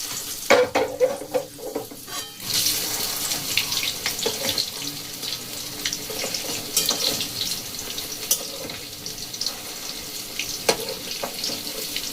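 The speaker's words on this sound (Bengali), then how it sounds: "একদমই লো ফ্লেমে এগুলোকে ভেজে নিতে হবে।" Kofta balls made from leftover vegetables frying in oil over a very low flame, a soft steady sizzle with occasional stirring clatters and scrapes of a utensil in the pan.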